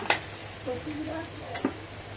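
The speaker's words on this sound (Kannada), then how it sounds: "ಇದು ಕಾಳಿಗೆ ಒಗ್ಗರಣೆ ಕೊಡ್ತಾ ಇದ್ದೀನಿ." Spices crackle and sizzle in hot oil as a tempering is poured over sprouted legumes, with a sharp sputter near the start and another burst later, plus light stirring over a low kitchen hum.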